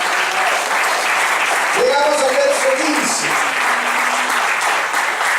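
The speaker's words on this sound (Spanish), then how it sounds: "denle un aplauso a Jesús" A church congregation claps steadily and loudly throughout, while someone speaks over the applause partway through.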